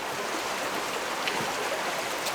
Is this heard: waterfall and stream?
yes